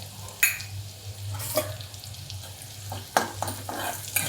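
Amaranth greens being sautéed with salt and crushed peanuts in a pan: quiet, steady sizzling with a few sharp scrapes and clinks of stirring scattered through, and no voices.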